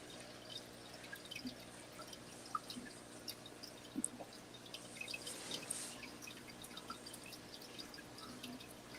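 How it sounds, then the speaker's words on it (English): Quiet, steady trickling and dripping of water from a home fish tank, with small splashy blips scattered over a continuous soft wash and no voices. "What is that noise? It's the fish tank beside me."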